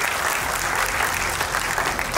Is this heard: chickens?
no